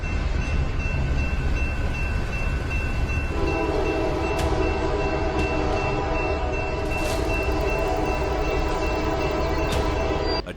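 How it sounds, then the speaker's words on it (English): A train roars through a level crossing with heavy rumbling wheels, while a steady crossing alarm or horn tone sounds over it and a few sharp metallic clanks ring out. "A train barrels in,"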